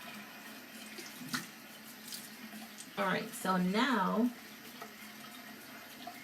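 Cold tap water runs steadily at a sink for rinsing the face, a faint continuous hiss beneath someone talking nearby.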